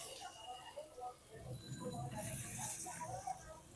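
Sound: fish frying in hot oil

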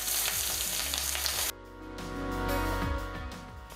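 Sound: coconut pieces sautéing in pan with crushed pepper and ginger

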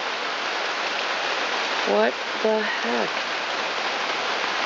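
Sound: pouring rain on a deck

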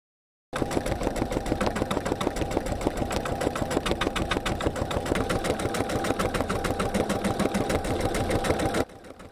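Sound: sewing machine stitching buttonholes in silk waistcoat

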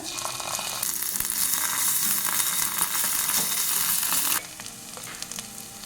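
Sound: onion frying with garlic and ginger paste

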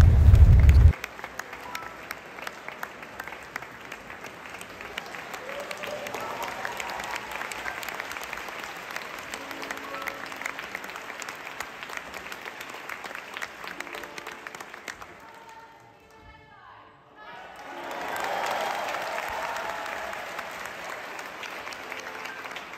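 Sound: audience applauding after an orchestra concert

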